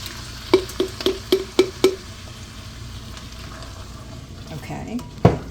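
A spoon stirs spaghetti sauce in a pot, making a quick run of six or so evenly spaced scraping strokes, then a quieter stretch before a single sharp clack near the end.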